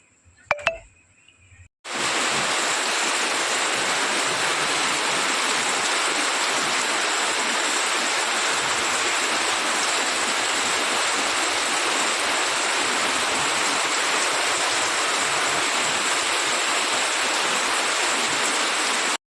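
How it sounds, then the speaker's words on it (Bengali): After a short quiet moment with a faint beep, heavy rain pours down in a dense, steady roar that continues unbroken. "কি জোরে বৃষ্টি হচ্ছে"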